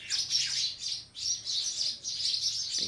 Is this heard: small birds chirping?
yes